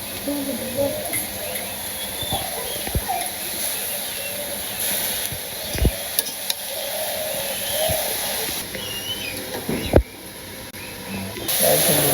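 Fresh jute greens (pat shak) fry in a pan, giving a steady hiss and sizzle with scattered crackles and small clatters throughout. Voices are heard talking intermittently over it.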